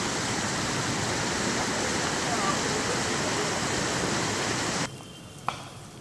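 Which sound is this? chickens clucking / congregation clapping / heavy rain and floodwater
heavy rain and floodwater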